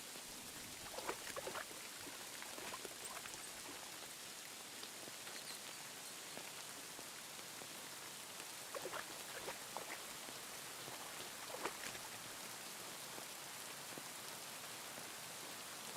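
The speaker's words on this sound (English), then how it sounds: "the rain is kind of going crazy" Rain falling in the medieval game Kingdom Come Deliverance 2, a steady dense hiss of drops pattering on surfaces, soft and continuous with occasional slightly sharper drips.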